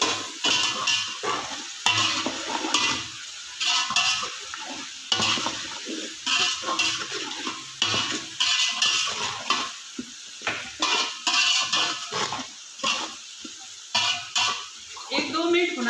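Garlic frying with salt and crushed chili in a pot for a potato and pea pulao, a steady sizzle broken by repeated stirring scrapes and clinks of a spoon against metal, moderately close.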